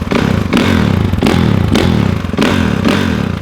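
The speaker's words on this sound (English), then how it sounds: "There's some revs for you guys" A Kawasaki KX450F dirt bike engine revs hard in repeated bursts, about four throttle blips each rising and falling over a steady loud idle, close by with no talking.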